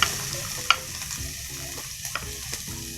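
Garlic and onion sautéing in a pan for pork estofado, a crackling sizzle punctuated by several sharp spatula knocks and stirring scrapes, near and loud with no talking.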